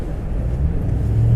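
A 4WD truck engine rumbles steadily while driving off-road in normal drive, with a low, continuous drone that builds slightly toward the end and no voices.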